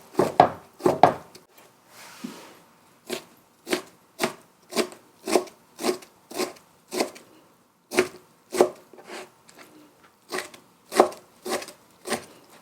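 A knife cuts vegetables lengthwise on a cutting board while preparing mung bean pancakes (bindaetteok): about twenty crisp, close chops in a steady, slightly uneven rhythm, with no talking.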